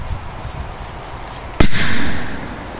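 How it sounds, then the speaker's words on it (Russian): A banger firecracker set off under a can goes off in one sharp, loud bang, followed by a short fading whoosh over light outdoor background noise. "Бенджер лютый, просто взрывается хорошо. Давайте его сейчас бабахнем."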